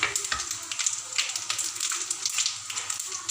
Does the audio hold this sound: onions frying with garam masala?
yes